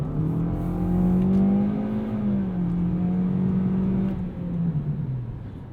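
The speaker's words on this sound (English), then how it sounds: "So definitely a little bit loud on full throttle." Engine of a 2020 Toyota Corolla with a CVT held at full throttle, giving a loud, steady droning hum whose pitch rises slightly and then sags a little over several seconds, with no talk.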